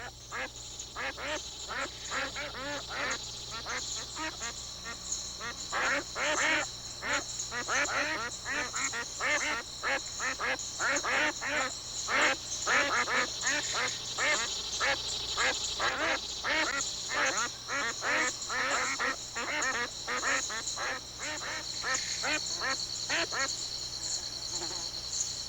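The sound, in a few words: Canada geese calling on water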